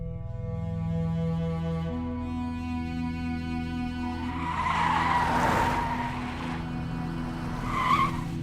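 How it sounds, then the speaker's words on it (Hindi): A car pulls out with loud skidding and squealing tires over a revving engine, rising to a harsh screech in the middle and again near the end, with no voices. "बादशाह, गाड़ी निकलो।"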